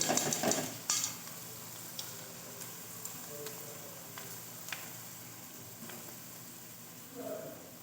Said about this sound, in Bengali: ওর মধ্যে চার ছাঁকনিতে করে অল্প অল্প চাল দিয়ে আমি এইভাবে ভেজে নেব